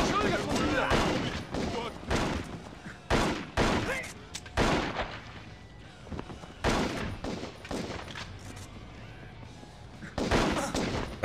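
Bursts of gunfire from the Total Overdose video game, repeated volleys of shots scattered across the span with short gaps, loud and close, with brief speech mixed among them.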